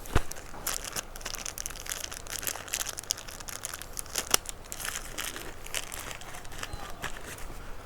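A thin plastic sheet, used as a rain cover over a camera for landscape photography, is torn and crinkled by hand, giving a steady close-up crackling with sharp snaps throughout.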